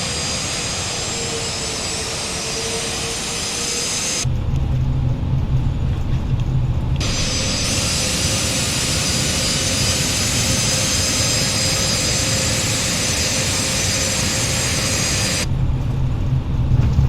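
A simulated airliner's jet engines in Microsoft Flight Simulator roar loudly in reverse thrust on the landing rollout, a dense, sustained wash of noise with abrupt shifts in tone as the thrust setting changes.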